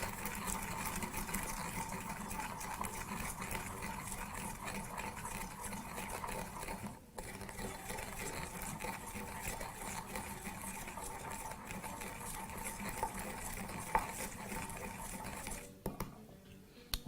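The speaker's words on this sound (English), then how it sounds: "Add to that small amount of some fennel seeds, and last but not least about 3 of your cardamom pods, and proceed to break everything together" Fennel seeds and cardamom pods being crushed together: a steady, grinding, scraping crunch runs throughout at low volume, briefly pausing once and thinning out at the very end.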